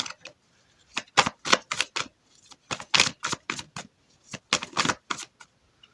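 Tarot cards being shuffled and drawn, a series of crisp riffling bursts in quick rhythmic clusters, close and fairly loud, with brief pauses between.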